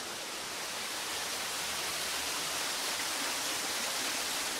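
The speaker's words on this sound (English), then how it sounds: "we are actually now behind the waterfall." Roaring waterfall heard from inside a cave behind the falling water, a dense, steady broadband rush that stays loud and unbroken throughout with no voices.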